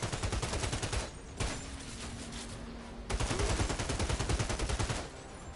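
Rapid submachine gun bursts in a Trickster-class shooter video game, loud and close, firing in dense rattling volleys with a short lull in the middle before another sustained burst.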